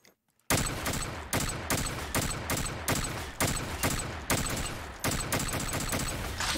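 Repeated gunfire from a headshot gun in a Call of Duty Zombies-style video game map, about a dozen sharp, loud shots in a steady rhythm after a brief silent start.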